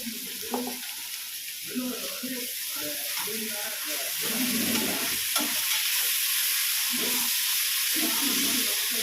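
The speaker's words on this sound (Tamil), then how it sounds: "தக்காளி போடுறேன்ப்பா, தக்காளி போடுறேன்ப்பா, ஒரு 2 கை தக்காளி போடுறேன்." Tomatoes, two handfuls, fry in a hot pan and get stirred, a steady sizzle and hiss running throughout while scraping stirs come and go near at hand, with faint voices now and then.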